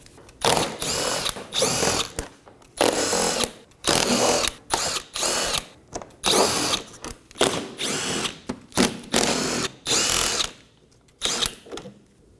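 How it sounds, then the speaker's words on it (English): A power tool removes recessed 10mm bolts from the bumper of a Dodge Durango, running in repeated loud buzzing, ratcheting bursts of about a second each, separated by brief pauses, close up and with no talking. "There are 3 more 10mm bolts recessed in the bumper. We're going to remove those as well."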